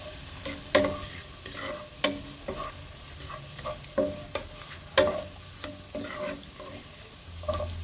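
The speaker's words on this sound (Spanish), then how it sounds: "freímos media cebolla finamente picada durante un minuto" Finely chopped onion frying in melted margarine, a steady close sizzle broken by regular scraping strokes of a spoon or spatula against the pan, with no voices.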